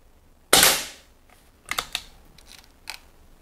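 A brown ambidextrous Air Arms S400 air rifle fires one sharp, loud crack that quickly fades, followed by several softer, quieter mechanical clicks close by.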